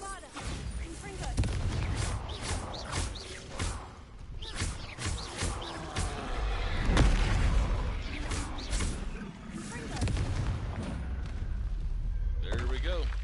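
Bombarda and Confringo spells burst in Hogwarts Legacy combat, a run of sharp blasts and whooshing impacts scattered across a busy fight, with people talking throughout.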